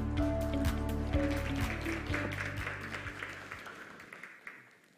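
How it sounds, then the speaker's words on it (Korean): An audience at a startup demo day applauds as a company founder is welcomed to the stage, a dense wash of clapping over a steady low music bed that thins and fades toward the end. "큰 환영의 박수 부탁드리겠습니다."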